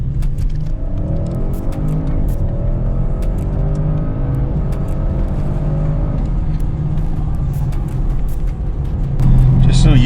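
A 750HP Audi RS7 with an APR Stage 1 upgrade accelerates hard in RS mode, its engine note climbing steadily through the gears as a loud, close interior drone, with a short shift break near the end.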